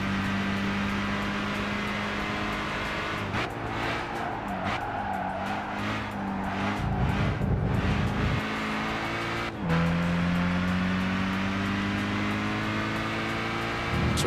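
Engine of an almost stock Mazda Miata racing in Gran Turismo 5 in a 400PP online race: a steady, close drone that dips mid-turn under tire skidding and noisy bursts, then climbs again.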